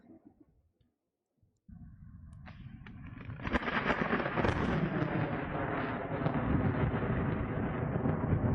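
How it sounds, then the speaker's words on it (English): Thunder from a storm, beginning after a near-silent pause with a sharp crack that swells into a loud, sustained rumbling roll lasting several seconds. "What is thunder? Is that it?"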